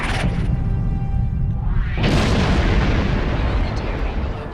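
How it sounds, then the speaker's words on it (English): A loud, deep boom of a spaceship explosion in Star Trek Online, followed by a rushing blast that sustains and slowly fades. "That last explosion did some damage, but we've survived."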